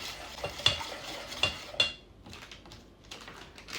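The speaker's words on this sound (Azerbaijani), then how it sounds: "Üzərinə 50 ml duru yağ, qarışdırırıq" Cake batter being stirred in a bowl after oil is added, with several distinct knocks of a spoon against the side followed by quieter, softer mixing, close and without voices.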